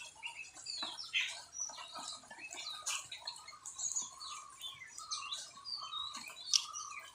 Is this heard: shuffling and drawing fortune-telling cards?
no